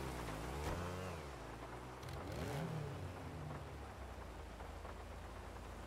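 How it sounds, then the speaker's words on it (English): Steady rain weather in a GTA roleplay server game, a continuous hiss of falling rain with a faint low rumble, heard beneath a car engine whose pitch rises and falls in the first half. "Nobody wants this rain, man."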